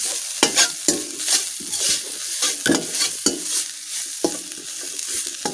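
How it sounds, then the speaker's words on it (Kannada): Grated coconut frying in a pan for curry leaves chutney powder, with a spatula scraping and stirring in repeated sharp strokes over a soft sizzle, close and clear with no talking. "ಇವಾಗ ಇದನ್ನು ಕೂಡ ನಾವು ಚೆನ್ನಾಗಿ ಫ್ರೈ ಮಾಡಿಕೊಳ್ಬೇಕು"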